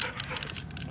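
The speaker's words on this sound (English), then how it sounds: "if you hear that sound, it is my dog" A pet dog barks and yelps in a few quick, close bursts at a moderate level, with the sound spilling over a steady indoor background and no talk over it.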